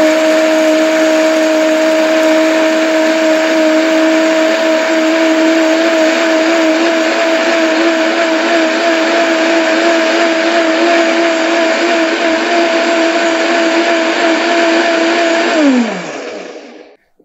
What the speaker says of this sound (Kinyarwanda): narangiza ngashyira kuri ya blender yanjye kugira ngo nayo mbisye neza bize kuba binoze.